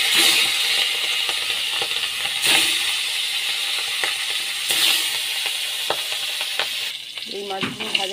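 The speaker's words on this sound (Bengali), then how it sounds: "এই যে মাছটা ভাজতে দিয়েছি, ভাজা হচ্ছে।" Large fish pieces fry in a kadai, hissing with a loud continuous sizzle that swells in bursts, with scraping and light clinks of a spatula near the end.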